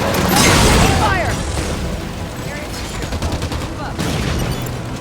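Halo video game gunfire, a continuous heavy barrage of rapid shots and booming blasts filling the whole stretch, with voices speaking over the combat.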